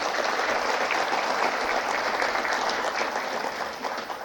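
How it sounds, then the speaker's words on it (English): Dense, sustained applause from a seminar audience on India-China relations, a continuous full wash of many hands clapping at steady strength, easing slightly toward the end. "A big round of applause for Shri Vijay Gokhale."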